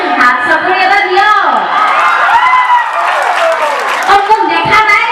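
An audience at an outdoor cultural program in Golaghat claps and cheers continuously, with shrill whoops and children's shouts rising over dense applause throughout.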